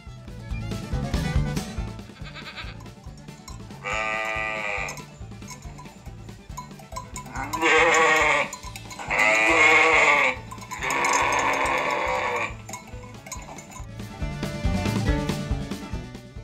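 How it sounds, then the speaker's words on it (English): Several sheep bleat in a farm setting, with three or four loud, drawn-out bleats in the middle stretch and quieter bleating near the start and end over low background noise. "Sheep. Bah."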